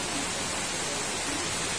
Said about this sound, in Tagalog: Ang lakas na ng ulan talaga, oh.